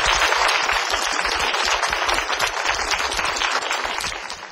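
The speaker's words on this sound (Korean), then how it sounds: "박수로 환영해 주세요." Loud, dense applause from a lecture audience welcoming a speaker, a continuous wash of many hands clapping close by that holds steady and begins to fade near the end.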